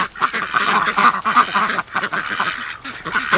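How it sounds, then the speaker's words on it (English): A crowd of adult ducks quacking continuously at a pond during a busy morning feeding, many overlapping calls close by with no talk. "It's mostly adult ducks."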